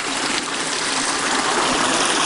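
Small waterfall on a creek in gold prospecting country, a dense, steady rush of falling water heard up close and loud, with no voices.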